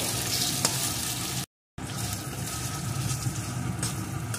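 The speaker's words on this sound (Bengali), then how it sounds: "এখন দিয়ে দেবো টমেটো কুচি। এটাকেও একটু ভেজে নেব।" Chopped tomato frying in a pan for a duck egg curry, a steady broadband sizzle with light stirring scrapes, broken by a brief silent gap in the middle before the sizzle resumes.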